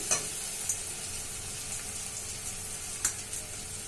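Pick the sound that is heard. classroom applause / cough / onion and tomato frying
onion and tomato frying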